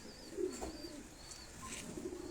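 Several pigeons at a loft in Abbottabad coo softly in low, repeated murmuring phrases, with faint higher chirps from other birds scattered throughout.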